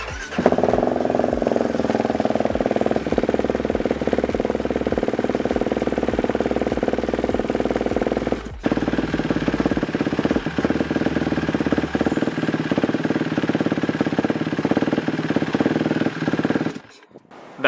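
A 2011 Husqvarna TE449 supermoto engine idling loudly and close while checked for a leak, a steady throbbing rumble that briefly cuts out midway and then continues before stopping near the end.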